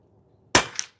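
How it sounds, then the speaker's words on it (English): A single shot from a Pinty 9 .22 pellet PCP bullpup air gun: one sharp, loud crack after near silence, followed by a short decaying tail with a faint metallic ring. "we're going to send that single pellet down range"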